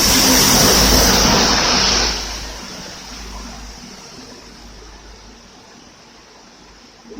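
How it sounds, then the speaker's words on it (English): Road traffic and trucks passing by, one loud vehicle roaring close for the first two seconds, then fading into a softer steady traffic rumble in the distance. "where are these trucks coming from? Sometimes they come one after the other, really thick, and with the other traffic as well."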